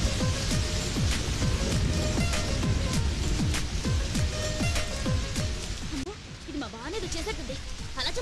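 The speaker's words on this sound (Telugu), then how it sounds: "కోనేటిలో స్నానం చేద్దాం తీసుకొస్తే పైనుంచి వర్షం పడుతుంది" Steady rain falls and patters on a surface with a dense, continuous hiss, while other sounds and possible voices run underneath throughout.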